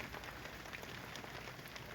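Steady rain falls in Sihor, Bhavnagar, a dense, even hiss of drops hitting surfaces that stays constant and fairly loud throughout, with no voices.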